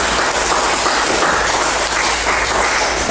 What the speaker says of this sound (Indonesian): Kita berikan tepuk tangan untuk teman-teman